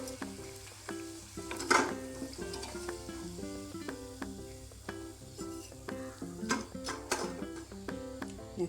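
Raw jackfruit 65 pieces deep frying in hot oil give a steady crackling sizzle that runs throughout, with occasional louder pops and spatters over a faint tonal background.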